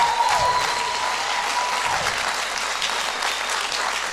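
A church congregation claps and cheers during a sermon, with dense, continuous hand-clapping and a few scattered shouts blending into a loud, steady roar.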